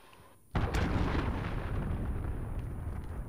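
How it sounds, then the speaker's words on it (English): A cruise missile strike slams in during a video game, with a sudden loud blast followed by a sustained, heavy rumbling roar that slowly fades over a few seconds. "Enemy cruise missile incoming."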